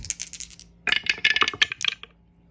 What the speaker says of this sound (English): And then we get 2 dice for Western Germany.